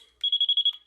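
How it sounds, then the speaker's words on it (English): A Christmas light tester gives a rapid run of about seven high electronic beeps, evenly spaced and close, with silence around them. "So with this tester, we hear a rapid beeping."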